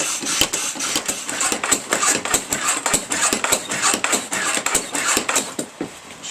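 A small pump reinflates a Suzuki Bandit tyre filled with tyre sealant, chugging in a fast, even, mechanical pulsing rhythm that stays steady and close throughout.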